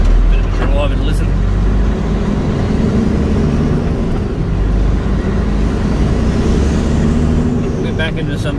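A steady, loud low rumble of engine and road noise fills the cabin of a vehicle driving along a road. It runs continuously, with faint clicks and some brief voice-like sounds at the start and end.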